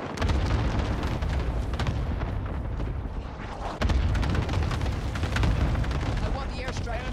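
A continuous roar of airstrike explosions in Warzone Caldera, with heavy low booms layered into a dense, loud, sustained rumble and a sharper blast near the middle, while voices talk over it.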